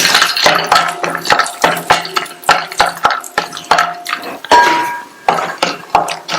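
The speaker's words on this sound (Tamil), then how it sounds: "இந்த பேன்ல 2 டீஸ்பூன் நெய் சேர்த்து, நெய் உருகினதும் 20 இருந்து 25 முந்திரியை சேர்த்து 2 நிமிஷத்துக்கு நல்லா வறுத்துக்கங்க." Cashews roasting in ghee in a pan, with a spoon scraping and clinking against the metal in quick, irregular strokes over a faint sizzle, close and loud, with no voices.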